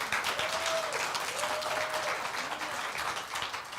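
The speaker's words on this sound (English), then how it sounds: "Would you please give her a big round of applause?" A church congregation at a Sunday service applauds together, a dense, steady wash of clapping that holds strong throughout before tapering slightly at the end.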